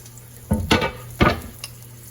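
Green onion and cilantro cook in a pan, with two or three short bursts of sizzling and stirring scrapes over a quiet background, close up.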